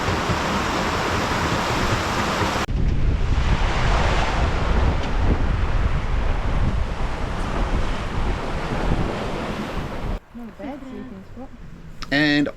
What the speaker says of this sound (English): 14 knots of breeze on the beam, cruising along at 7 knots